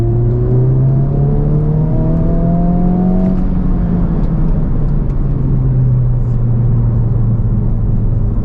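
A car in third gear pulling hard from low revs, its engine note rising steadily and then easing into a long sustained drone, heard close from inside the cabin with no talking.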